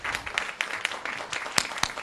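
An audience at a forum on healing and empowering women claps, with sharp, separate hand claps in a loose rhythm that sound close and fairly loud, over a brief burst of applause.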